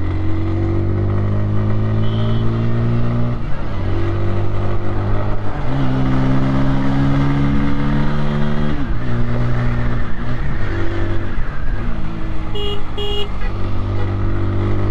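A 2024 Bajaj Pulsar N150 motorcycle engine is revved repeatedly to its limiter, loud and close, the pitch rising in steady sweeps, holding at the cut-off, dropping back to idle, then climbing again in a continuous series.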